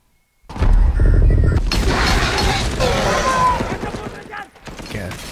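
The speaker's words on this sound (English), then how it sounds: "it makes like a more distorted machine gun sound when it cuts to the satellite view of him." A Halo cinematic delivers a distorted, heavy machine gun burst that starts abruptly, with a rumbling low boom and metallic mechanical clatter continuing for several seconds before fading.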